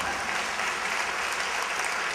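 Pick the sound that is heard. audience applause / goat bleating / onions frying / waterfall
audience applause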